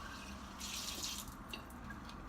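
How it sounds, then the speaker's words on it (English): Warm water is poured from a tap into a jar in a kitchen, a steady splashing rush that swells for about half a second and then trails off into faint dripping. "just add a little bit of warm water to the jar"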